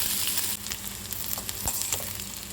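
Onions sautéing in a pan for mint chutney, a soft continuous sizzle with a few stirring scrapes, close and fairly quiet, no voices.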